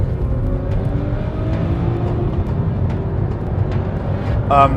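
Volvo S60 Polestar accelerating hard from a rolling start on a snowy road, a sustained engine roar with rising gear pulls, heard from a following car.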